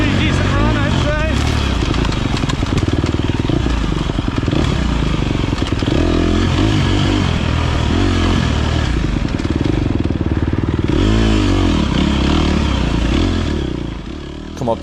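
A dirt motorcycle in first gear climbs a rough hill wide open during a hard enduro race: a loud, close, sustained engine roar with rising and falling pitch, rattles and scrapes, fading slightly at the end.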